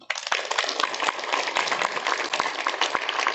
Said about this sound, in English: I think this definitely calls for a big round of applause